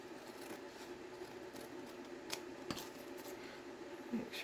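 Scissors snip through paper being cut in half for a pocket on a Victorian folio craft panel, with quiet crisp clips and rustling at close range over a faint steady room hum.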